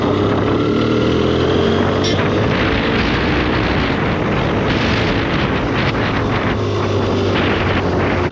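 A 2009 BMW F800S motorcycle being ridden, its engine a steady loud drone mixed with heavy wind rush across the microphone, continuous for the whole stretch with no talk.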